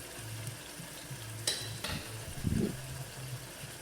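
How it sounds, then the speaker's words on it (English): Tomatoes go into a hot pan for spaghetti sauce, a soft continuous sizzle with a sharp clink of utensils and a brief burst of louder hissing and stirring. "So I'm gonna go ahead and add those tomatoes in."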